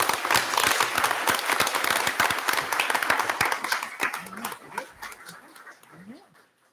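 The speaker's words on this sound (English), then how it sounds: "Let's give everyone another round of applause." Audience at a North Merrick school board meeting applauding, dense steady clapping that slowly fades out, with a dog panting and whimpering close by near the end.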